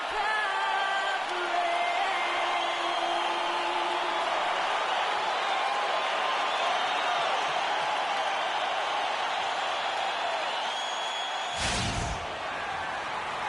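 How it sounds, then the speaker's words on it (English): A large arena crowd at the Energy Solutions Arena in Salt Lake City roars continuously at a Jazz basketball game against Boston, with sustained cheering and a few whistles, then a brief loud burst near the end. "The crowd has assembled here at the Energy Solutions Arena in Salt Lake City, Utah, to cheer on the Jazz."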